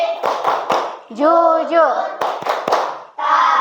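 A classroom of children claps together in short, sharp rhythmic bursts between chanted words of a religious lesson song, the group voices and claps alternating loudly and up close.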